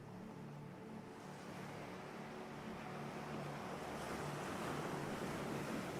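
Ocean waves wash steadily over a shallow seabed, a continuous close rush of surf with wind noise, building slightly louder toward the end, with no voices.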